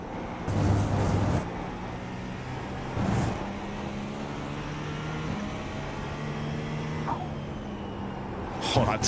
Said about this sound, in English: Oh, that turbo blow off.